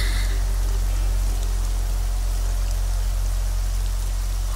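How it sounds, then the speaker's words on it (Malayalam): Heavy rain roaring down, a dense, steady, loud wash of hiss with a deep rumbling undertone and no breaks. "മഴയുടെ ഈ അർത്തിരമ്പൽ എനിക്കെപ്പോഴും ഇഷ്ടമാ"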